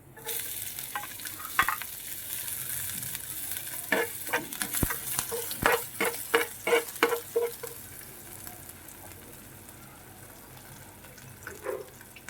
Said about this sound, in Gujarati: તો હિંગ મૂકી અને થોડું લસણનો વઘાર મારું છું.